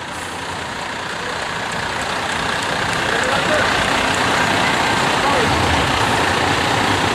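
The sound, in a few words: new snow plow trucks of the highway department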